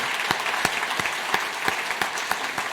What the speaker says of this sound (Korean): 인사할 때 큰 박수